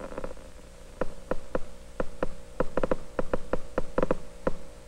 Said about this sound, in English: You hear the amplified sound of the elementary charges in this very weak current.